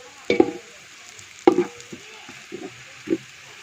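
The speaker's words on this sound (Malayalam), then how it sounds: "ഇത് കുറേ നേരം ഇളക്കിക്കൊണ്ടിരിക്കണം" Food frying in a pan on a home stove while being stirred for a Vishu dish, with a soft continuous sizzle and several sharp scraping knocks of the spoon against the pan at irregular intervals.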